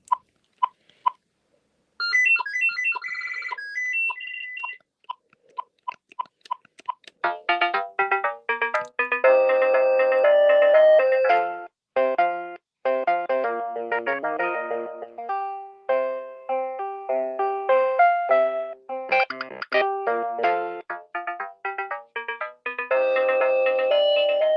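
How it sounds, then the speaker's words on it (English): A phone ringtone sounds loud and close for the whole stretch, beginning with a few sparse bleeps and then playing a busy electronic melody that is an actual song, with short pauses between its phrases. "That ringtone is actually a real song, in case you were interested."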